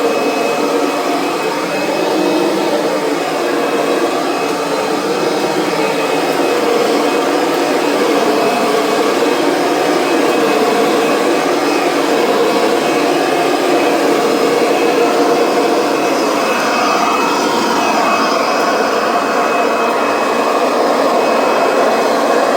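A 2010 Kirby Sentria upright vacuum cleaner with a slipping belt runs steadily and loudly with a whining, rushing drone and a faint high squeal, continuous without pauses.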